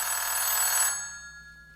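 An old-fashioned house telephone bell rings loud and steady for about a second, then cuts off, leaving a fading electric hum with no voices.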